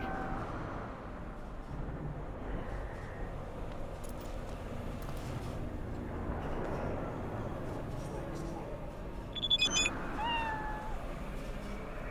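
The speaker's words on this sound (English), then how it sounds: "Hey, kitty." A cat meowing in the video game Cyberpunk 2077, a short high call near the end over busy game ambience and background sound, with a player talking over parts of it.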